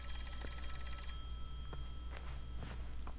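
A video game telephone rings with a repeating electronic bell, several bursts over a few seconds alongside faint tapping like footsteps, with no one talking.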